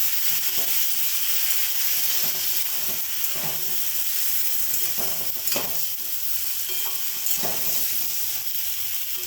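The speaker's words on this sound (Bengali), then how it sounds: "এর মধ্যে পেস্ট করা মশলাটা দিয়ে দিচ্ছি" Ginger, cumin and green chilli paste sizzles steadily in a hot pan while a spatula scrapes and stirs it in repeated strokes, with a constant frying hiss throughout and no voices.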